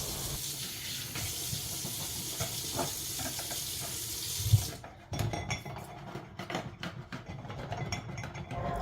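A glass rack is washed in a kitchen sink: running tap water hisses steadily at first, then stops and gives way to clattering dishware knocks and clinks, close and moderately loud.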